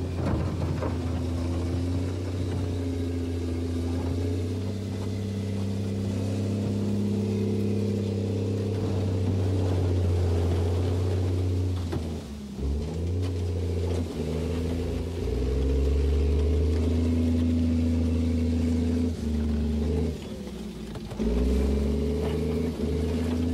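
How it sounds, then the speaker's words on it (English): A Royal Engineers CET Combat Engineering Tractor, an army bulldozer, rumbles with a loud, deep engine note that dips and revs back up several times while it maneuvers, with no voices. "The Royal Engineers CET Combat Engineering Tractor is the bulldozer for the"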